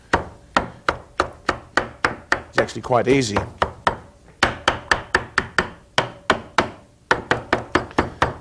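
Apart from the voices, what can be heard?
chopping spinach leaves with a sharp knife on cutting board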